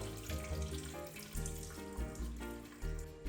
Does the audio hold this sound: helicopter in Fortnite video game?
no